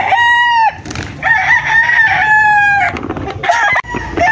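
Gamecocks and bullstags offered for sale crow loudly and close by, with several long cock-a-doodle-doo calls one after another and some clucking between them.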